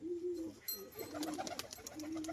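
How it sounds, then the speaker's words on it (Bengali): A male pigeon cooing at close range, with low, throaty rolling coos repeated in a short series and some faint background noise. "নর পায়রা।"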